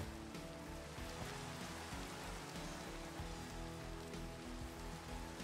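Rain falls in a Minecraft world, a dense, steady patter of drops on surfaces that stays constant and fairly soft throughout.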